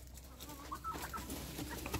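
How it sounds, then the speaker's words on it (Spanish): Backyard hens cluck softly nearby, a few short low calls scattered over a faint steady background. "Aquí está mi gallina."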